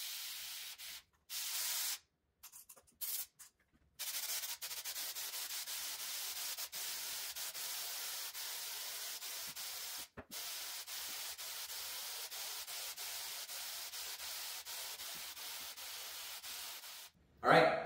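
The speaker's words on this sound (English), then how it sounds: "I'm going to spray a little bit heavier to go over the areas that I might have missed." A Homax wall texture aerosol can sprays orange peel texture onto a wall, starting with a few short hissing bursts and then holding one long, steady, close spray before a brief stop and a final burst.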